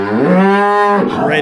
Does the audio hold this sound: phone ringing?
no